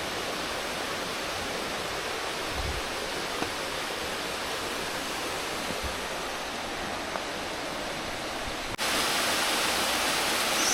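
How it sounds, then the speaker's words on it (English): A waterfall cascades beside a steep mountain trail on the Appalachian Trail, a loud, steady broadband roar of rushing water that continues unbroken and fills the whole scene, with no voices. "The trail's still following these cascades."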